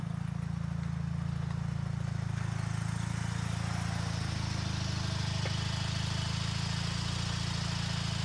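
A 1990 Mazda RX-7 FC rotary engine running on a Haltech with a BNR stage 4 turbo idles steadily, a constant low drone with no one talking.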